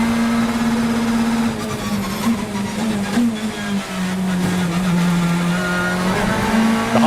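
BTCC touring cars race at Snetterton around the Hollywood corner, with a loud, steady engine drone that rises and falls as the cars pass close by, and no voices over it.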